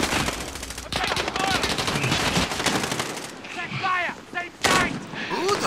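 Rapid automatic gunfire in Call of Duty Plunder rattles almost continuously at close range, dense bursts broken by a short pause before firing resumes.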